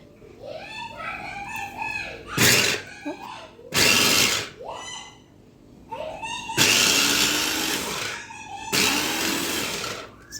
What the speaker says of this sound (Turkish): Sanırım doğradı bile. Oo, çok iyi doğradı. Ve o kadar hızlı doğradı ki inanamadım.